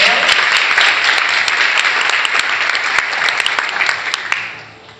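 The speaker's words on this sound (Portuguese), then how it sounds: "Você pode dar um aplauso pela vida dela?" Youth church gathering applauding, a loud dense crowd of clapping hands with sharp individual claps standing out, fading away at the very end.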